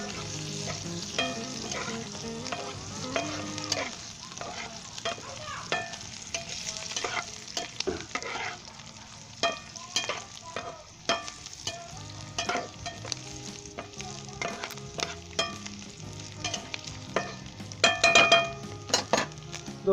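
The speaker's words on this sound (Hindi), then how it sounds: "कसूरी मेथी डाल दें और इसे 1 मिनट के लिए आपने दोबारा फ्राई करना है" Kasuri methi sizzles in a hot oil tempering for Pakistani Punjabi karhi, with constant frying crackle under repeated stirring scrapes and clinks of a spoon against the pan.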